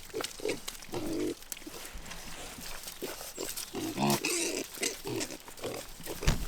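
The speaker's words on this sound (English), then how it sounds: "Good morning, pigs." Pigs grunting and snorting up close on a farm in the morning, in short irregular bursts, with rustling and shuffling as they root around between them.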